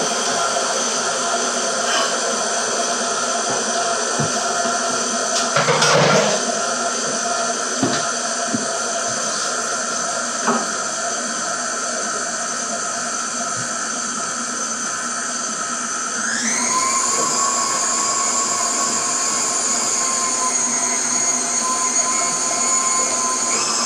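An electric mixer runs on high, beating pumpkin puree with butter and sugar for pumpkin pecan bread: a loud, steady motor whine with a brief bump of the beaters midway and a rise in pitch as it speeds up, no talking.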